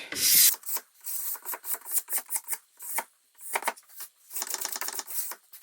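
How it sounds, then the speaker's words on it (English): A dull ski scraper drags across a waxed ski in repeated rough, rasping strokes, close and loud, in uneven bursts with short pauses between them. "I'm going to use this dull scraper on this wax ski, which is sure to leave some work"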